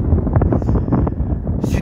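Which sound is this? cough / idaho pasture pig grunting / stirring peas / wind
wind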